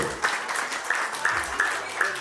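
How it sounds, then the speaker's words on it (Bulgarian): Guests at a jubilee celebration applaud warmly, a close, fairly loud burst of clapping that stays steady throughout, with a faint voice underneath. "затова ще ви помоля за още по-силни аплодисменти за неговата невероятна съпруга Таня"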